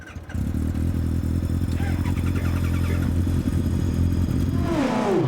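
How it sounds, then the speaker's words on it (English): The twin-engine Tiger Z100, each engine driving a six-speed sequential gearbox to the rear wheels, revs hard and accelerates with a loud, constant close engine roar that rises in pitch at the end. "Each engine has a 6-speed sequential box linked to a transaxle which sends all that power kicking and screaming to the rear tyres."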